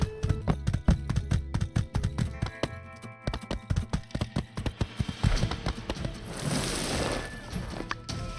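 Horse hooves trot in the video game My Time at Sandrock: a rapid, steady clip-clop rhythm of sharp taps, fairly close and loud, with a brief pause and a wash of wind or ambient noise near the end.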